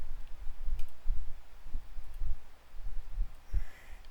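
Several soft computer mouse clicks, spaced irregularly, sound at close range over a quiet background with faint low thumps and no talking.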